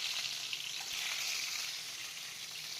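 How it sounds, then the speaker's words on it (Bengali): Shrimp and potato pieces fry in a pan with oil for pilaf, giving a steady, dense sizzle that holds evenly throughout with no talking. "তো রান্না চলছে, চিংড়িটা আলুটা ভেজে নিচ্ছি"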